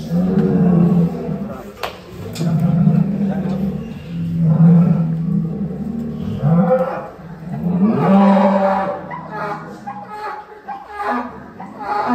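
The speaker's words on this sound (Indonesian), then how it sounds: "ini ada sapi raksasa" A giant cow at Lestari Farm, a cattle farm in Indonesia, gives long, loud, low moos that swell and fade several times while people talk nearby.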